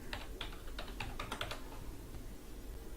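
Typing a password on a computer keyboard: a quick, close run of light key clicks over about a second and a half, then quiet room noise, with no voices.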